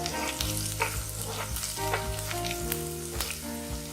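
Ginger and garlic sizzle and crackle steadily in hot oil with roasted cumin seeds for dhaba-style chana dal tadka, a close, continuous frying hiss with occasional stirring clinks and no talking.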